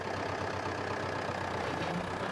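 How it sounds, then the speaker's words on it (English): A David Brown 990 tractor engine runs at a steady idle, with an even low rumble and no talking throughout. "Tractor starts and runs smoothly"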